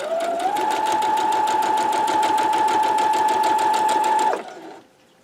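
Sewing machine stitching quilt fabric pieces one after another in a chain, a fast, steady mechanical whir with rapid needle ticks, close and even for about four seconds before winding down and stopping.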